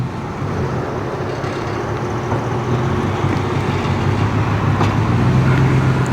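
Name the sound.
vehicle backing a trailer in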